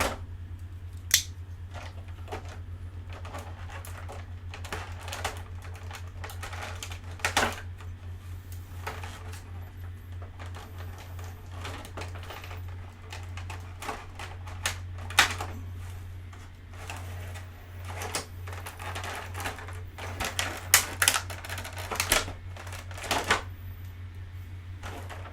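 Plastic packaging crinkles and snaps in irregular bursts as a NECA Teenage Mutant Ninja Turtles 30th Anniversary Euro Super Shredder figure is unboxed, set over a steady low electrical hum.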